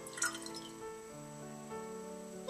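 Dissolved ginger mixture is poured into wine in a demijohn, with soft trickling and dripping liquid running steadily and faintly close by, without voices.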